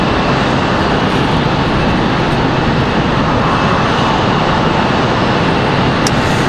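A JetBlue jet airliner at Raleigh-Durham airport gives off a steady, loud, broadband engine roar that holds evenly throughout, heard from fairly close with no voices over it.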